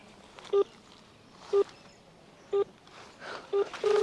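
Phone being dialed: four short, evenly spaced keypad beeps about a second apart, then a longer steady tone, over faint background room noise with no talking.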